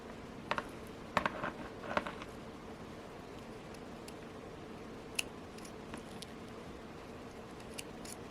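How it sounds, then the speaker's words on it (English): Scissors snip bracelet thread in a few quick, crisp cuts close by, followed by small faint clicks in an otherwise quiet room. "cut the thread"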